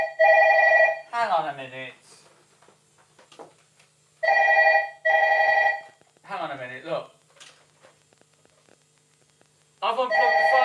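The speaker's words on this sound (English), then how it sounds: "I've unplugged the phone. So how on earth is it still ringing?" A landline telephone, unplugged yet still ringing, sounds in loud double-burst electronic trills with pauses between them, while people talk in the gaps between rings.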